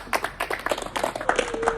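Crowd applause for the final winner of a children's skating race in a housing society, a dense patter of many hands clapping at close range over a short stretch.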